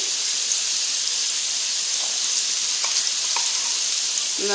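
Ginger garlic paste frying in a hot pan beside chicken gives a steady, close, dense sizzle throughout, with a few faint clicks of a spoon near the end.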